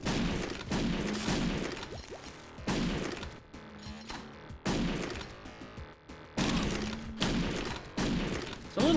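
Double shotgun blasts in the game Gruel, several heavy booming shots in uneven succession, each with a dense low thump and decaying rumble, loud and close with brief quieter gaps between.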